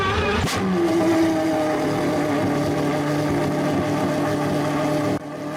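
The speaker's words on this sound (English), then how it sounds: "Pagani RR has the loudest startup in the game" A Pagani RR supercar engine in the Roblox game Driving Empire fires up with a sharp crack, then settles into a loud, steady droning idle that holds close and unbroken for several seconds.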